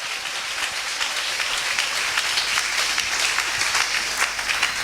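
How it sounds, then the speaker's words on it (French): A church congregation at a Sunday worship service breaks into sustained, dense applause, steady and loud throughout with no voices over it. "qu'ils acclament la parole de Dieu"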